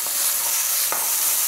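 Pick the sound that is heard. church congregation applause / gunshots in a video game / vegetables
vegetables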